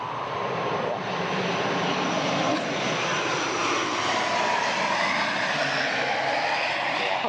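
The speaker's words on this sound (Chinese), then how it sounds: "螺旋桨飛機啊，大家幾耐冇見過？" A propeller airplane drones overhead in Northern Ireland, a steady, loud engine hum filling the whole stretch with no one talking.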